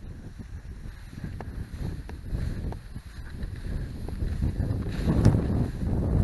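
Northerly wind buffets the microphone beside a river, a loud, low, rumbling roar in irregular gusts that swell toward the end, with no talking.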